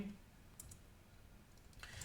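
A computer mouse clicks a few times, sharp and faint, while a user works in 3D house-modeling software, over a low background hiss and murmur.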